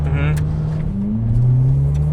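A Ferrari 488 Pista's engine drones and climbs steadily around 4,000 RPM from inside the cabin, loud and continuous, while a person talks over it.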